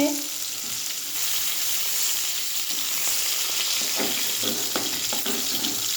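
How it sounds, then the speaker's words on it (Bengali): Salted fish fries in hot oil with a loud, steady sizzle, broken by sharp crackling pops and spatters that grow busier toward the end, heard close up with no talk. "বন্ধুরা মাছ ভাজবো দিয়ে যা ফাটছে"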